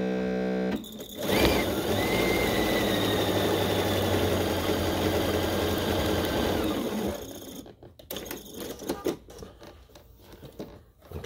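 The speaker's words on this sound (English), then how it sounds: "And then we're going to run a quarter inch seam from that flat edge corner." A sewing machine stitches a quarter-inch quilt seam in one continuous whirring run of about six seconds, close and steady, then stops, leaving softer handling noises.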